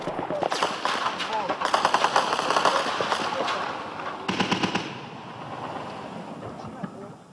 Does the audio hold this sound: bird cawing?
no